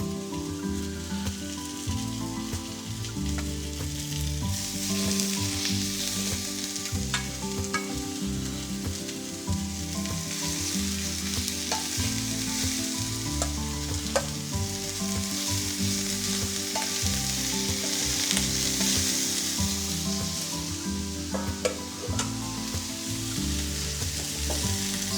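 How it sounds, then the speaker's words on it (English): Steady, dense sizzling of kangaroo meat frying in hot oil in a pan, close and continuous with a crackling hiss throughout, no voices. "Nice sizzle, that's what you want to hear."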